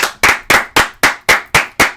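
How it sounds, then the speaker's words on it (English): Eight sharp, evenly spaced claps ring out close and loud, a deliberate rhythmic round of clapping rather than a crowd's applause, with no voices over it. "Can we give a round of applause to Buck Showalter?"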